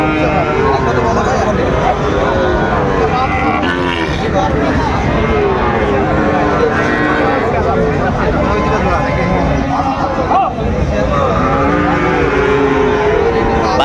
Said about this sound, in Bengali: এখানে একটা সেরা মানের সার গরু একেবারে কোয়ালিটি সম্পন্ন